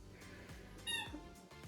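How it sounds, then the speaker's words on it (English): A small pet squeaks in the background, a couple of short, high, faint squeaks over a quiet room. "If you hear squeaking in the background, just know that she is entertaining herself"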